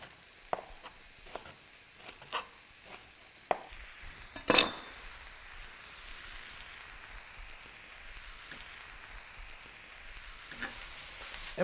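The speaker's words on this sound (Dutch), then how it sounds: "En maar weer omhusselen." Soft sizzling of ratatouille vegetables frying in a pan, with scattered scraping and stirring clicks and one sharper clatter midway.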